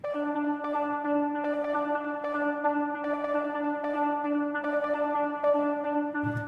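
Hip hop bridge section built from a time-stretched, duplicated sample layered under a Serum synth patch, steady sustained tonal chords with soft rhythmic pulses, moderately quiet and without voices.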